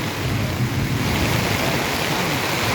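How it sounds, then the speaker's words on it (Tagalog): Heavy rain pours down on a steel deck installation site in San Carlos, a steady, dense roar with a low rumbling undertone, continuous and close throughout. "Dahil nga, lumalakas ang ulan."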